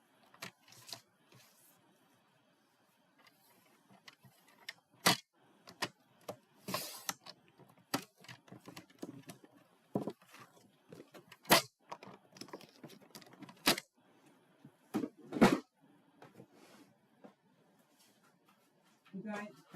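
Scissors cut a piece of gold paper for a handmade Christmas greenery holiday card, giving sparse, sharp close-up snips and paper rustles scattered across a quiet stretch.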